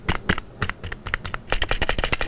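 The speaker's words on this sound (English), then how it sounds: "The spacebar, that's pretty loud, and it also feels kinda clunky and loose." A Skytech Gaming keyboard with a loud, loose spacebar clatters under steady typing, close-up bursts of sharp clicky keystrokes that speed into a dense run near the end.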